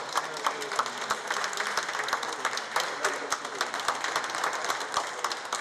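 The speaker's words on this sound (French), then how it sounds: "C'est sous les applaudissements qu'il a fait son entrée ce mercredi matin dans le palais présidentiel." Crowd applause greeting the Ivorian prime minister as he enters the presidential palace, steady clapping from many hands with sharper individual claps standing out, moderately loud throughout.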